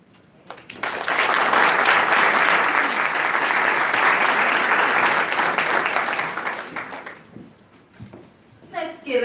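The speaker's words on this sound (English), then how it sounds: "Let's give another round of applause to the CEO for the beautiful words." Audience at the Coro Pittsburgh 20th anniversary gala breaks into sustained applause, a full, even wash of clapping that swells quickly, holds for several seconds, then fades as a voice begins speaking.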